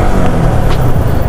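Yamaha R15 and TVS Apache 180 motorcycles in a street race give a loud, continuous engine roar up close, steady and dense throughout with wind buffeting and no talking.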